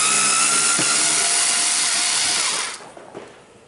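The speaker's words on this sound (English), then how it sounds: "we should be able to remove the 10 screws in the second or the middle cover" A power tool whirs loudly and steadily while backing out screws from the middle cover of a DiamaPro SVX automatic vacuum motor, then cuts off near the end, leaving a couple of faint clicks.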